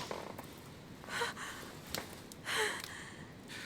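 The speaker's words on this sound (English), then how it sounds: "Her breathing is becoming stable and..." Woman breathing in a 19th-century detective video game, a few soft gasping breaths and sniffs at close range with quiet pauses between them, without any speech.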